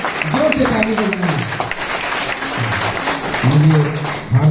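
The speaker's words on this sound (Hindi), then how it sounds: "भूमि की हौसला अफजाई जोर से ताली बजाइए।" An audience claps at a school birthday celebration for the chairman, a dense wash of applause running the whole time beneath a speaking voice that swells louder near the end.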